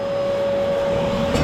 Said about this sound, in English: Vacuum off that.